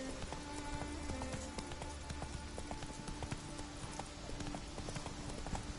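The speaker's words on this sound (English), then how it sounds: "some reason my horse is having a hard time with these wood boards for the stairs" A horse's hooves clatter on wooden stair boards in the Witcher 3 video game, a fast, busy clip-clop of hollow knocks that runs without a break against a dense, steady game background, with no talk over it.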